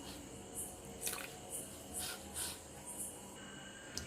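A thick bhajji batter for cauliflower 65 is stirred by hand, giving soft, wet squelching and sticky slaps in a loose rhythm, close and quiet.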